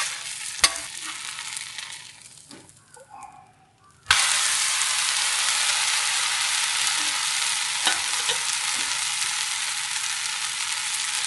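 Wheat dosa batter sizzles loudly on a cast-iron dosa griddle, a dense, steady frying hiss that starts abruptly after a few quiet scrapes and taps and carries on without talk.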